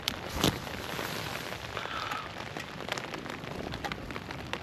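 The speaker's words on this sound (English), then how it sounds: "The wind has died down, now we're getting rain." Rain patters steadily on a campsite during Storm Darragh, a dense, even hiss of drops striking surfaces, fairly quiet and continuous with a few sharper nearby splats and no voices.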